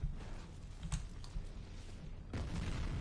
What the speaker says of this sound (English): now there's lots of explosions going on